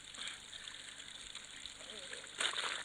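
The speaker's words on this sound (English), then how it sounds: "the water's rising up around my feet." Water rising and trickling around the player's feet in a lakeside mystery video game, a continuous soft dribbling and splashing that swells louder toward the end.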